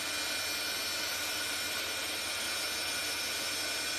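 A heat tool blasts steady, loud airflow while drying ink on a handmade male card, a continuous whooshing roar with a mechanical whine running unbroken throughout.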